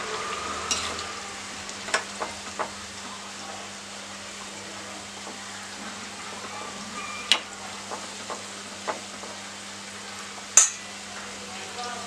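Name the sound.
frying wild amla (Indian gooseberries) for pickle in a pan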